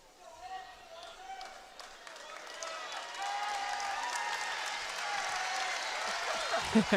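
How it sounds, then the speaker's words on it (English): Spectators at a Nebraska at Iowa college volleyball match applaud the floor mopper with scattered clapping that swells into a fuller, moderately distant round, while a commentator talks over it and squeaking shoes sound on the court. "Round of applause for the floor mopper"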